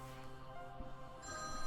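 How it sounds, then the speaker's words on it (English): A mobile phone rings with a steady electronic ringtone tone for under two seconds over background game music in a Kingdom Hearts 358/2 Days cutscene. "My phone's going off."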